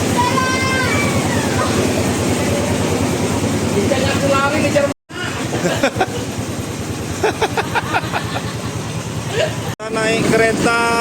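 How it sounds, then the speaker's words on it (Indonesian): A train ride on an old colonial-era railway line near Yogyakarta, with continuous rumbling carriage noise and rattling under steady conversation and other voices throughout. "Kita naik kereta"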